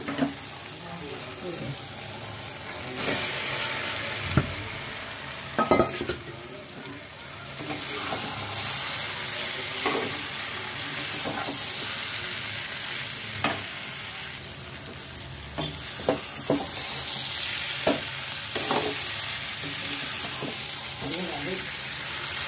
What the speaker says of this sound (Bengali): এবার আমি পনির আর আলু ভাজাটা দিয়ে দেবো।